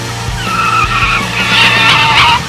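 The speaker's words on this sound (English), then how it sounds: "I have drifted cars with bigger name than this, but I just like how this car dance around corners." An Acura Integra DC2 drifts through corners, its tires skidding and squealing in a loud, sustained screech with rising and falling pitch over a low engine drone, close by throughout.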